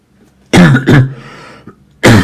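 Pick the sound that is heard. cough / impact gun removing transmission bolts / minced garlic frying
cough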